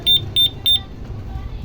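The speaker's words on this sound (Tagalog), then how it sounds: "May alarm siya." Three short, bright electronic beeps in quick succession from the keyless alarm kit fitted to a Honda Click 125i motorcycle, each chirp doubled, followed by quiet background.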